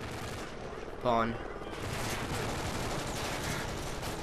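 Video game gunfire, a sharp close shot burst followed by a steady noisy rumble of distant firing and game ambience, with a brief spoken word.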